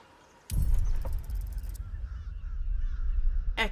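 Bird calls play in a game stream, with a sudden burst of honking, cawing cries followed by softer warbling chatter and a final sharp squawk near the end, moderately loud with no talking.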